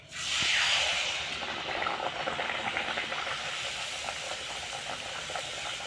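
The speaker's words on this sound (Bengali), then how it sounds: "এখন আমি ভেজে নেব।" Colourful luchi flatbread frying in hot oil, a steady close hiss and sizzle with fine crackling that swells at the start and then holds evenly, with no talk.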